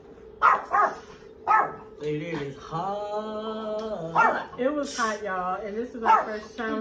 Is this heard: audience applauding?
no